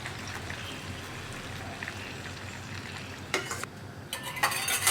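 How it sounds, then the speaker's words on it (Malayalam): Chicken curry with coconut milk simmers in a pan with a soft, steady bubbling and sizzle, broken near the end by a few close scraping stirs of a spoon against the pan. "ഇനി ഇതൊന്ന് തിളച്ച് കുക്കായി വരട്ടെ"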